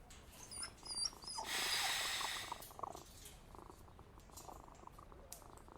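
A cat purrs in the Sherlock Holmes versus Jack the Ripper video game, a soft rumbling drone with a louder breathy burst midway, faint and steady, with no talking.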